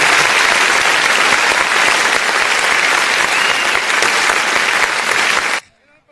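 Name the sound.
audience applause at a kabaddi match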